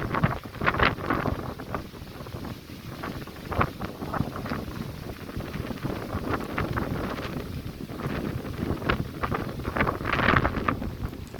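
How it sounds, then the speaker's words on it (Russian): Violent wind storm sweeping through a new park in Tashkent during rain, heavy gusts pounding the microphone in repeated loud bursts, steady roar between them, no talking. "Такой ветер сильный."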